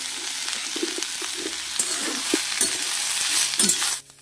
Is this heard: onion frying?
yes